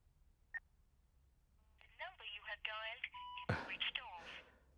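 A short single beep, then a run of electronic phone tones mixed with voices, ending in a burst of noise.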